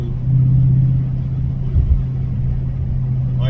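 Deep, steady idle rumble of a Dodge Charger Hellcat's engine, close and loud, holding a low drone throughout with a brief swell near the middle.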